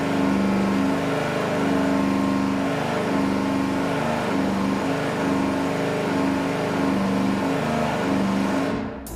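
A V8 engine on a dynamometer holds a loud, sustained roar through a power sweep at close range. It stays strong and steady until it cuts off abruptly at the end, with no talking.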